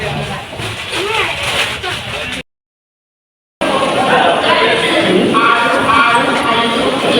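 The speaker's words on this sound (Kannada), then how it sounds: "ಟ್ರೈನಲ್ಲಿ ಕುತ್ಕೊಂಡಿದ್ದೀನಿ." Riding inside a moving passenger train, there is a steady rumble and hiss with chatter and a voice over it, and the sound drops out completely for about a second midway.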